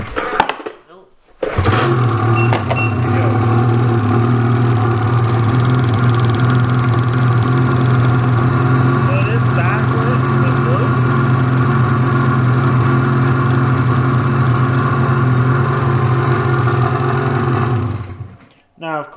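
A Ski-Doo 850 Turbo snowmobile engine fires after a pull start and then runs steadily at a loud, close idle for about sixteen seconds before it cuts off.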